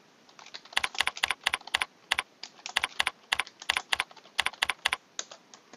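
Typing on a computer keyboard in Microsoft Word 2010, crisp close key clicks in quick uneven bursts with short pauses between runs, loud and alone.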